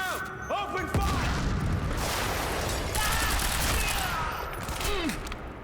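Gunfire erupts in the video game Quantum Break, a dense, sustained fusillade of shots and booms filling the scene, with a voice shouting over the chaos.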